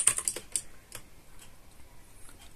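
Keystrokes on a computer keyboard while typing commands during a Linux install, a quick burst of clicks at the start followed by a few scattered taps, close and fairly quiet with no talk.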